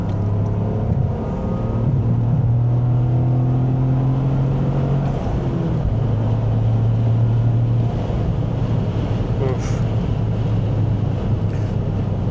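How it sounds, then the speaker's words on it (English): A stock Toyota GR Corolla turbo engine pulls hard while driving, a steady, loud in-cabin drone with rising harmonics, brief shifts in pitch and faint turbo whistle and wind rush, with no talking. "you can hear things like the turbo noise and the blow-off valve"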